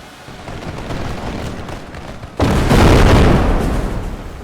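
Grenade explosions on a Total War Empire battlefield: a busy rumble of distant gunfire, then a sudden loud close blast that lingers as a heavy roaring boom.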